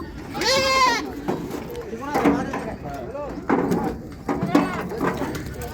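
Goats bleat repeatedly at a rural goat market, several loud, wavering cries rising over one another while people talk nearby.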